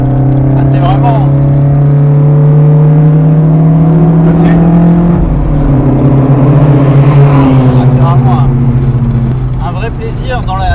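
An Alpine A110 sports car drives through a chicane, its loud engine note rising steadily, then dropping sharply as the driver lifts off and changes gear before pulling again, close and continuous, with a voice speaking in the cabin.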